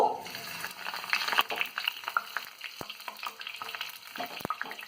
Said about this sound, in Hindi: हमारा तेल लगभग गर्म हो गया है। अब इसमें सबसे पहले मैं डालूंगी जो काट कर रखी हुई बरगद की पत्तियां हैं वो।